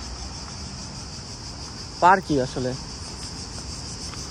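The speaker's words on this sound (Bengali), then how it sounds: "এখানেও ঝিঝি পোকা ডাকতেছে, আমার ঝিঝি পোকার ডাক অনেক সুন্দর লাগতেছে অনেকদিন পর" Crickets chirp in a park in Greece, a steady high-pitched trill running unbroken through the whole stretch, with a short burst of talk in the middle.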